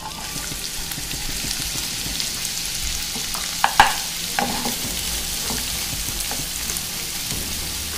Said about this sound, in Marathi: आपण आता कांदा टाकून घेऊया